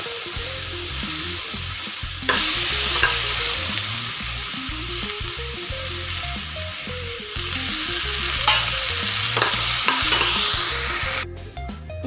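Chopped tomatoes fry in oil in a pan, sizzling loudly and steadily while a spoon scrapes and stirs in repeated strokes, no voices.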